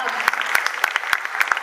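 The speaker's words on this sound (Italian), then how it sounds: "Dai, facciamogli un applauso." An audience claps at a live stage performance. The clapping is sharp and fairly quick, with distinct slaps rising from a steady patter, and it stays close and lively throughout.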